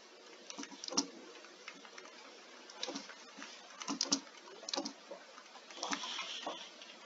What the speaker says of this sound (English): And then you would type in here what you want changed